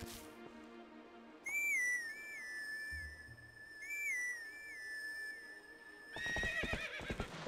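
A whistled melody summons Epona, Link's horse in the game Zelda: Twilight Princess HD, played twice as a clear, sliding tune over music, followed by a loud burst of galloping hooves and a whinny as the horse arrives.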